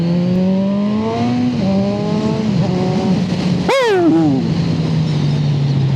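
A big motorcycle pulls away and accelerates hard through several gears, its engine note climbing and dropping with each shift, then a sharp throttle blip and a steady cruising drone, loud and close.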